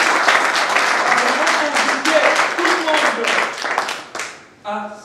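Audience applause and cheering fill a conference hall, a dense, sustained wash of clapping that stays loud throughout before thinning out, with a brief voice or tone near the end.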